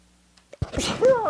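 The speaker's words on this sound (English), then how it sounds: "That sneeze came from faster than I could anticipate." A single sharp sneeze bursts out after a couple of faint breaths, loud and close.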